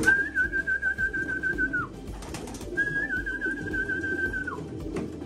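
Pigeons in an aviary coo in a soft pulsing rhythm, close and low, while two long, steady, high whistling tones sound over them one after the other.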